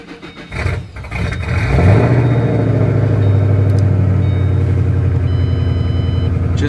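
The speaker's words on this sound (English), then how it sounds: "She has started the last 2 days, but she hasn't really wanted to start." A 2007 Ford Mustang with suspected bad fuel cranks briefly, then catches and starts, settling into a loud, steady close-up idle rumble.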